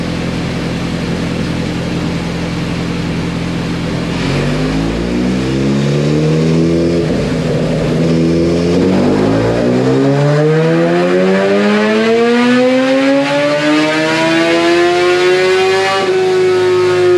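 A stock-motor 2022 Suzuki Hayabusa with restrictions removed, already warmed up, makes a full-throttle test pull. The engine climbs loud and close through rising gear sweeps, with brief dips at the shifts, and keeps pulling harder to the end.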